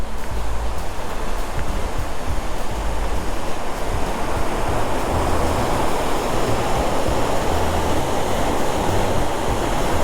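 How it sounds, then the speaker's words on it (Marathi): Water of the Nangartas waterfall near Amboli rushes through a narrow rock gorge in the rain, a steady, dense roar without pause and no voices. "अगदी चिंचोळ्या ह्याच्यातून पुढे जात आहे पाणी"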